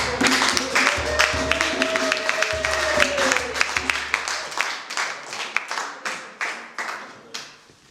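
Applause breaks out at a Christian community's 40th anniversary celebration, mixed with voices and a sustained tone early on, then thinning into loud, separate claps toward the end.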